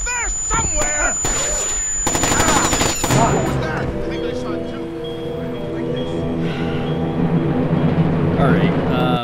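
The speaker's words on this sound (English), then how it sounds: "We've got incoming shots!" Rapid automatic gunfire and sharp shots ring out in Splinter Cell: Chaos Theory, loud and dense at first and then giving way to game effects, with voices talking throughout.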